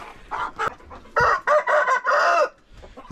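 Several chickens and a rooster on a Turkish farm squabble noisily, with bursts of loud clucking and agitated squawks close by, no talk.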